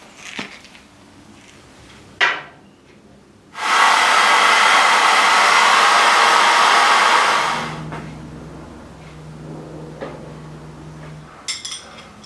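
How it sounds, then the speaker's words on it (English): A hair dryer blows loudly and steadily for about four seconds while heating a rubber hose, then cuts off, with a few small knocks and clatters before and after. "It took a little bit of hairdryer heat"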